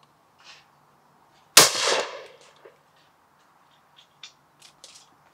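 A single loud shotgun blast from a Blaser F16 Heritage at a clay shooting stand, sharp and close with a ringing decay, followed by a few faint clicks and distant sounds.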